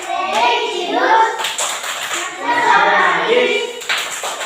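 A group of children claps along in a school PPK clap chant while standing, the claps mixing with young voices chanting in rhythmic bursts, loud and close throughout.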